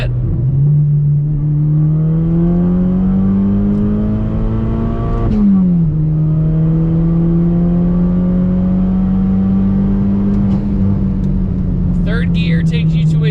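A Chevy Cobalt SS engine pulls hard through the gears, its steady rising drone dropping sharply at a shift near the midpoint before climbing again, loud and close from inside the small car, with a voice speaking over it.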